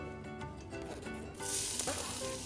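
Finely chopped onions sizzle and fry in a pot for a potato tray börek, a steady close crackling that grows louder and brighter partway through, with no talking.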